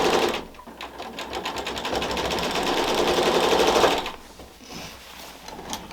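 A sewing machine stitches quilt panels together in one steady, close, whirring run lasting several seconds before stopping, followed by quiet handling of fabric.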